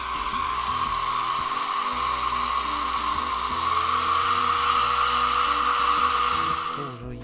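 A coin ring cut from a 1992 five-kopeck coin is sanded with sandpaper on a rotary tool, giving a steady, loud, high whine that rises slightly in pitch midway and continues without speech.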